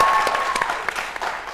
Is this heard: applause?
yes